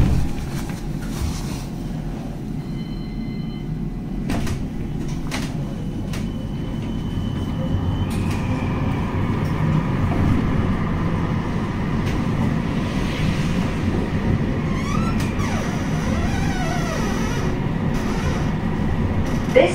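A West Midlands Metro tram pulls away from Five Ways stop, a low steady rumble building gradually with faint high whines and rail squeals near the end, heard from inside the car.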